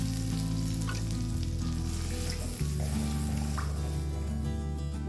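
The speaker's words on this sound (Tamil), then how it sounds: "மசாலா பவுடர்லாம் போட்டு நல்லா கொதி வருது." Masala gravy with spice powder bubbling in a pan for a hotel-style tofu and soya paneer peas curry, giving a steady, close, even sizzle and simmer that runs alone throughout.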